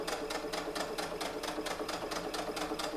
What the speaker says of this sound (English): I'm just going to keep sewing my straight stitch all the way around